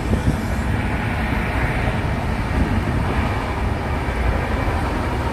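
Inside a moving train, a dense, continuous rumble and rattle of the carriage runs steadily throughout, with no clear breaks.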